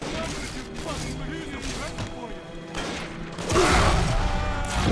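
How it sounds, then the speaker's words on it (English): In the BioShock 2 video game, splicers shout over a pinging security camera and the heavy thudding boots of a Big Daddy, building into a loud, cluttered mix of voices, tones and thumps that swells toward the end. "hear 4 splicers shouting absurdities at me, a camera pinging, the thud of the Big Daddy's boots"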